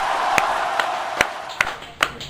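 Scattered claps ring out in a school interview setting, a few sharp hand slaps spaced irregularly over a steady murmur of crowd noise and background voices.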